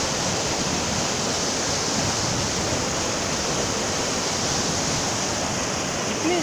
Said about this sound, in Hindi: ये दरिया की रफ्तार देखिए आप, ये दरिया है।